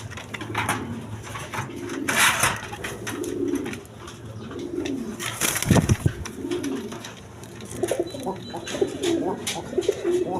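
Big-size quality pigeons coo repeatedly close by, soft throaty calls rising and falling with a few louder bursts, while someone talks over them.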